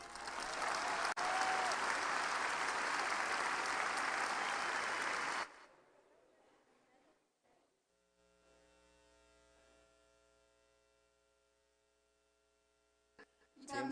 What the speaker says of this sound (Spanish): Morena, recibamos con un aplauso a Laura Esquivel